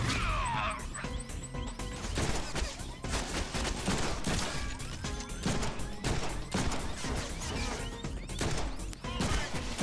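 Dense bursts of video game gunfire and crashing impacts from the Deadpool game on PS4 pile up in rapid succession, loud and continuous with layered combat effects and no break.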